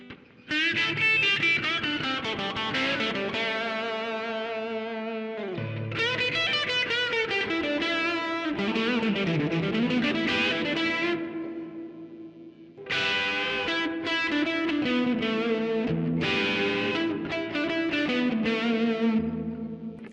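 Electric guitar playing sustained chords and melodic runs through a Vox amPlug 2 AC30 headphone amp on reverb, notes ringing out with a washy reverb tail, broken by two brief pauses.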